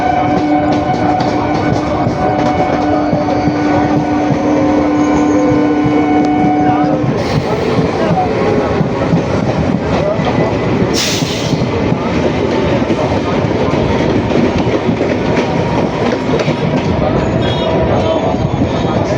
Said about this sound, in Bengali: Down Gede Sealdah local.